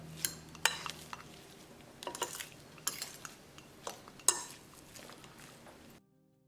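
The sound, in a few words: mixing lamb patty mixture with two forks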